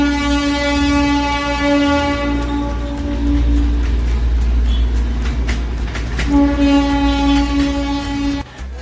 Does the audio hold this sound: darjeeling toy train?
yes